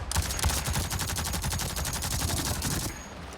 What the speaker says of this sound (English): The bullets are not that effective from this kind of range.